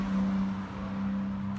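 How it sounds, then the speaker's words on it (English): Road traffic passes close by outdoors, a steady engine drone with a low hum throughout and no one speaking over it. "Sorry for all the traffic zooming by."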